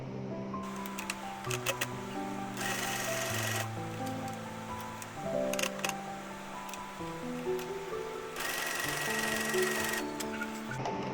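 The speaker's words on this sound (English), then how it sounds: "we're going to sew it together here, just a straight stitch" A sewing machine running a straight stitch along the seam of a button-down shirt being remade into a top, a close, steady mechanical whirr with rhythmic needle ticking that speeds up and slows in bursts.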